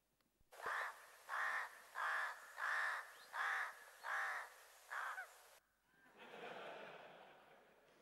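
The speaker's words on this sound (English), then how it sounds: "we're going to listen to some rooks. So watch out for the last one when it sounds surprised." Rooks cawing in a played recording: seven loud, evenly spaced harsh caws in steady rhythm, followed by a softer, drawn-out final call.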